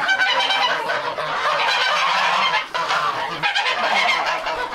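Geese honking on a farm where ducks and geese are kept, a dense, continuous chorus of loud overlapping honks and calls with only brief dips, filling the whole stretch without speech.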